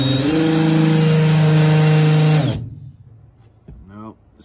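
A Harbor Freight countersink bit spins in a drill and bites into wood, a loud steady whine that winds down, followed by someone speaking close by.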